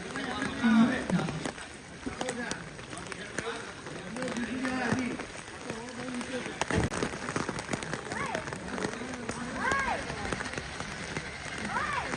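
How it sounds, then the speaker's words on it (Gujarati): Steady heavy rain pouring down in Valsad district, Gujarat, with a dense hiss throughout, while a voice speaks over it. "વલસાડ જિલ્લામાં ધોધમાર વરસાદ."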